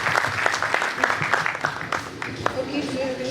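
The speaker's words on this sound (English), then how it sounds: "round of applause" Student union freshers' introduction crowd giving a round of applause, dense steady clapping for a few seconds with some voices mixed in.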